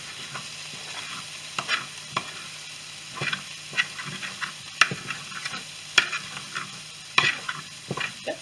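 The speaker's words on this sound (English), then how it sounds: "I added my egg in." An egg frying and being stirred in a pan for shrimp fried rice: a steady low sizzle under repeated sharp scrapes and clinks of the utensil, irregular and close.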